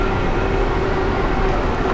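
An articulated dump truck comes down a hill at a heavy-equipment competition, producing a steady, loud, close mechanical drone and rumble with no break across two seconds.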